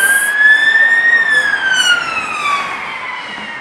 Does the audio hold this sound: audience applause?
no